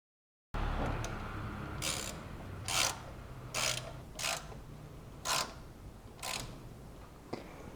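Ratchet wrench tightening 10 mm nuts on the ignition coil of a 1994 Fiat Uno Mille, heard as about seven short, evenly spaced metallic rasping strokes over a steady background hiss, fairly faint, with no talking.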